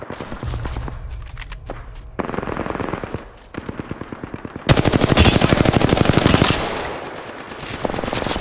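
Rapid automatic gunfire from an Apex Legends match pours out in loud, dense bursts with brief pauses between strings of shots and footsteps mixed in underneath.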